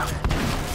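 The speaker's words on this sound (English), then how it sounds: "I think you're being shot at" A burst of gunfire in the video game Splinter Cell: Conviction, a loud, dense rattle of shots with a sharp crack near the start, over a short stretch without talk.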